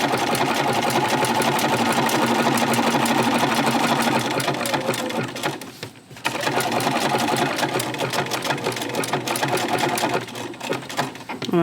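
A sewing machine stitches a Halloween quilt block in a fast, loud, steady whirring run with rapid needle ticks. It pauses briefly midway, then resumes stitching.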